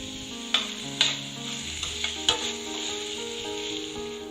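Onion and tomato sauté in a pan for a chutney, with a soft, quiet sizzle and a few sharp spatula taps, set against faint background music.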